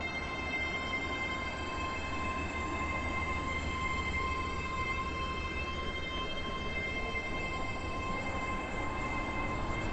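Steady rumble and hum of an express train in the Stepford County Railway video game, drawn out and continuous throughout as it arrives at a station platform, with no voices.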